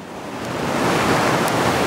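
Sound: Cheakamus River flowing near Whistler

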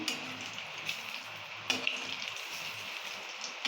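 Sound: frying ol (elephant foot yam) bora fritters

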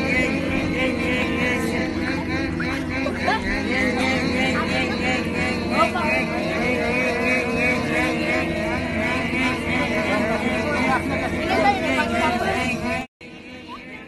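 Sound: street racers imitating loud motorcycle exhaust noise

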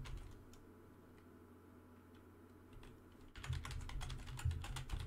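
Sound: typing on a computer keyboard

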